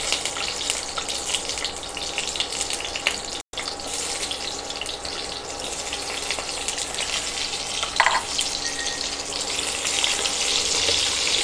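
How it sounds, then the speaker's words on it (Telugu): Ivy gourds dropped into hot oil fry with a steady, close sizzle that runs the whole time, broken by a short gap and a brief clatter. "ఇప్పుడు హీట్ ఎక్కిన ఆయిల్లో మనం తీసుకున్న దొండకాయల్ని ఒక్కొక్కటిగా వేసుకోవాలండి"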